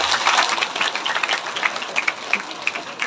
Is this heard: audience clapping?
yes